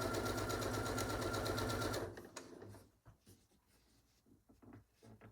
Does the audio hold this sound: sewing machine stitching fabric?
yes